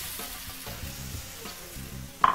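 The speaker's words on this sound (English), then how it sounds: "now that that's been sizzling for about 30 seconds" Chopped green and red peppers sizzle in a hot frying pan, a soft crackling fry close by and faint, punctuated by a few stirring scrapes and a sharp clink near the end.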